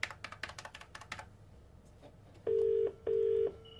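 A quick run of phone keypad clicks, then a pause, then two long, steady electronic tones from a telephone line.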